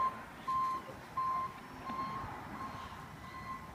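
A warehouse vehicle sounds its reversing alarm, a series of evenly spaced single-tone beeps over low engine rumble and background noise.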